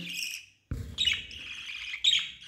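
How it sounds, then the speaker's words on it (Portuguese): Lutino budgerigars chirp in quick, bright bursts, close and fairly soft, after a short pause. "o próximo casal é um casal de lutino"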